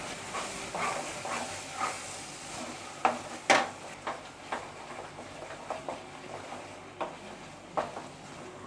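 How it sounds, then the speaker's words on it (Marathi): Chana masala paste sautés in oil on a stovetop, a hissing sizzle broken by repeated scraping strokes of a spoon against the pan, irregular and close, with one louder clatter midway. "आता हे आपल्याला सर्व साहित्य ना तेल सुटेपर्यंत चांगलं परतून घ्यायचं आहे."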